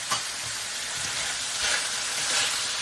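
Jalapeños, red and yellow peppers and ginger fry in a pan with a steady, close crackling sizzle, swelling slightly now and then as the vegetables are moved, with no talking.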